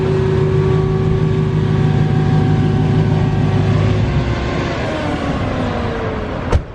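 A Dodge Hellcat SRT engine idles with a deep, steady droning rumble, then its pitch shifts and eases before a single sharp click near the end; loud and close, with no talking.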